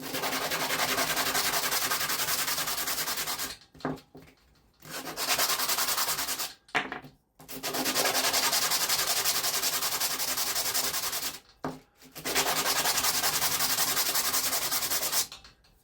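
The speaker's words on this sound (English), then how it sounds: "give them a bit of a light sand, just to get the rough bits off top and bottom." Wooden cylindrical candle holders rubbed on 180 grit sandpaper, a loud, steady abrasive scraping in three long strokes broken by brief pauses, close up and with no talking.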